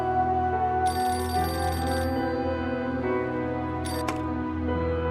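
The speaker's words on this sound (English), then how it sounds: "Pick up the phone." A telephone rings in the video game Beholder 2, a bright electronic ring burst followed by a short second chirp over a low steady hum, no talk.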